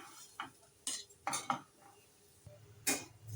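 Vermicelli is stirred in a pan with onion, chopped garlic, green chilli and turmeric, giving a few scattered metallic scrapes and clinks of a spoon against the pan with quiet gaps between them.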